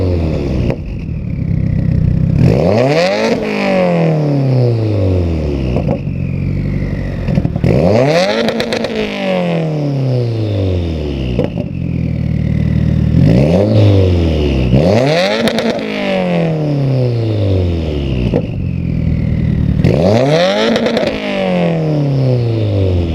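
Subaru WRX exhaust revs up repeatedly and loudly, about six rising-and-falling bursts in a steady rhythm, with a crackling, burbling note at each climb and drop and no talking.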